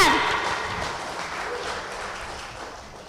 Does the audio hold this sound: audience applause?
yes